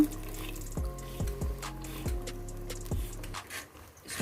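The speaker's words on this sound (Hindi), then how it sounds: "इसके अंदर थोड़ा सा पानी भी ऐड कर देंगे।" Water is poured into a bowl of yogurt and gram flour batter, giving a series of soft, close splashes and glugs in irregular bursts with a wet, liquid trickle between them.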